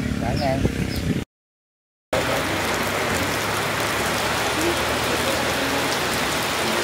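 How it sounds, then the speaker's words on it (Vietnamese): Steady rain pours down outdoors in a broad, dense hiss that runs almost the whole time apart from a short silent gap, with a voice briefly heard near the start. "mưa rồi, mưa tới rồi."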